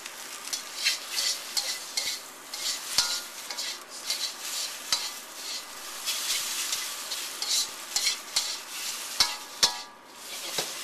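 Coated beef stir-fries in a hot wok with a little added oil, a loud continuous sizzle broken by frequent sharp scrapes and clanks of a spatula against the metal.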